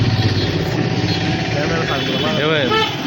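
A tractor engine rumbles steadily and close by, its low chug continuing beneath a speaking voice.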